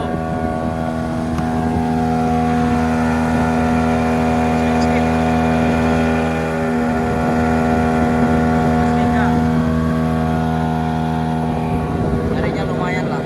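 A 15 PK speed outboard engine drives a spoon fiber boat on the water, a loud, steady droning whine with strong sustained tones running close to the microphone for the whole stretch, slight swells in pitch.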